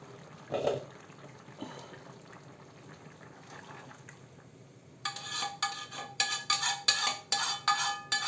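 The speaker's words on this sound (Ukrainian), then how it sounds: "І тепер ми цю воду, е, цю засмажку вливаємо сюди до картоплі." Water and roux are poured into potatoes in a cooking pot. After quiet kitchen rustling and a couple of soft knocks, an abrupt splashing pour starts and continues in uneven gushes to the end.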